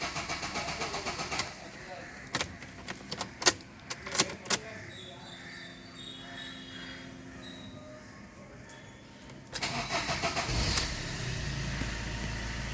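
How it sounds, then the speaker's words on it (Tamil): A used car with a 1.3 Multijet diesel engine cranks and is slow to catch, with a few sharp clicks and knocks before it. The engine then rises into a steady, close rumble near the end, and someone talks at the start. "வண்டியை ஸ்டார்ட் பண்ணுறேன்."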